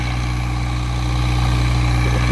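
A truck engine fitted with a modified racing exhaust pipe runs close by with a steady, deep, throbbing idle. The note holds even and loud and never rises into a clear rev, with no talking.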